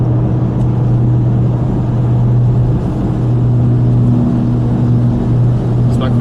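A car engine rumbles steadily at close range with a low droning hum while driving during a storm chase in Arkansas, faint cabin noise around it and no clear talk.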